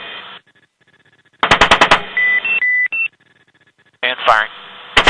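An Apache helicopter's gun fires in a rapid burst of close, sharp shots, preceded and followed by radio beeps and clipped radio chatter, with another short burst near the end.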